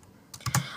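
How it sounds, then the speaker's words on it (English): Soft typing on a computer keyboard, a short cluster of a few light key clicks in a quiet room. "I was typing really soft"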